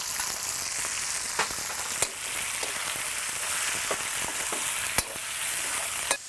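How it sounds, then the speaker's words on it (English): Steady loud sizzling of pork frying in a hot wok, with occasional sharp crackles and pops over a continuous hiss. "I've got to hear that sizzle"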